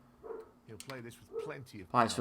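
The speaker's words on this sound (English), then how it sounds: "Apologies if you can hear the dog in the background." A dog barks and yips somewhere in the background of a room while someone talks over it, the barks faint and mixed into his speech.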